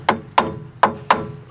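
A regular hammer strikes a car suspension strut part during strut removal, four sharp close metallic blows in an uneven rhythm with short ringing decay.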